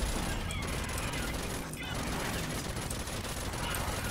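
Rapid minigun fire in the shooter video game Rage 2 pours out as a dense, loud, unbroken stream of gunshots that lasts the whole stretch, with faint voices mixed in.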